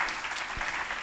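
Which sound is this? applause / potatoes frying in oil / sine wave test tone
applause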